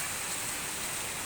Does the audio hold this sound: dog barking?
no